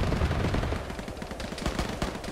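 Rapid gunfire crackles in the ShackTac military game, with bursts of automatic shots and scattered single cracks rattling in a dense, steady stream at moderate distance.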